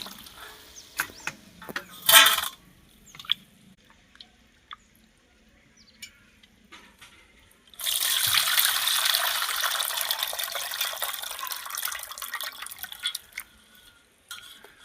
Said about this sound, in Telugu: ఈ యొక్క మినప్పప్పుని వాష్ చేసుకుంటున్నాం, మంచిగా శుభ్రంగా కడుక్కుంటున్నాం